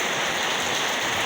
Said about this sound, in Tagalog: kung tatagal pang ulan na to, sigurado ako babaha talaga dito